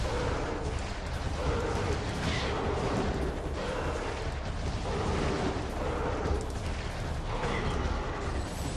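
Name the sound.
missile explosions in video game Metroid Prime 2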